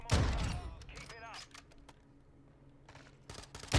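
Gunfire in Call of Duty Modern Warfare 2, with a loud burst of shots at the start, scattered game effects through the middle, and another sharp shot at the end.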